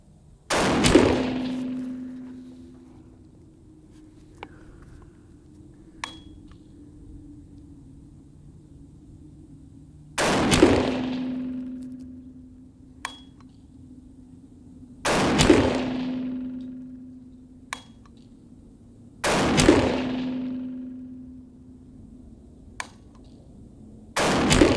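Four 350 Legend experimental-load rifle shots fired over a chronograph, each a sharp loud crack with a ringing metallic tail, spaced roughly five seconds apart with faint clicks between.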